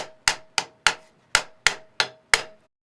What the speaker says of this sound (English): I'm going to just gently tap this into place and line it up